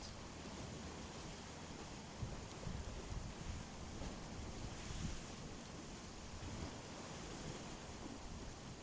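Steady ocean surf with waves washing in, a continuous broad roar with slight swells and some wind noise, heard alone without talk.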